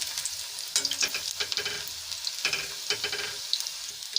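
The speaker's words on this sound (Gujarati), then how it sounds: "આપણે મુઠિયાને લાલ નથી થવા દેવાના હરિયાળા આવે એ જ રીતે આપણે તળી લઈશું" Muthiya dumplings frying in hot oil give a busy crackling sizzle with bursts of popping and occasional stirring scrapes, close and fairly loud, with no talking.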